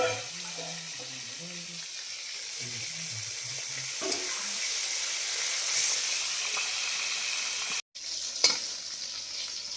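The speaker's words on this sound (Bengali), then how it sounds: "মাছগুলো ভাজা হয়ে গেছে" Fish fry in oil in a large wok, a continuous bright sizzle with occasional stirring clatter and scrapes, close and fairly loud, with a brief dropout near the end.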